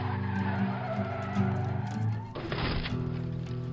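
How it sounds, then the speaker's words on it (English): Truck in the DayZ video game skidding and spinning out of control, with loud engine drone and sustained tire squeal, then a sudden harsh scraping burst near the end, close and intense. "I heard the truck spin out of control"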